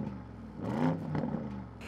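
A deep SUV sports exhaust note swells into a short rev around the middle, rising and falling twice before settling back to a steady rumble.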